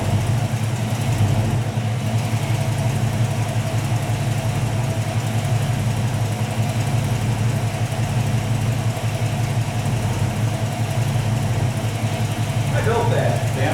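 A 347 stroker V8 in a 1967 Mustang idles steadily nearby, a loud, even low rumble that holds unchanged throughout with a faint extra noise near the end.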